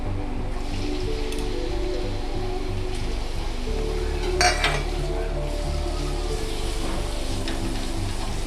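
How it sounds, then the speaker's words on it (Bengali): Prawns fry in hot oil in a pan for a Bengali bottle-gourd and prawn dish, giving a steady sizzle under repeated stirring scrapes and light metallic clinks of a utensil against the pan. "এর মধ্যে আমি চিংড়ি মাছগুলো দিয়ে দেব"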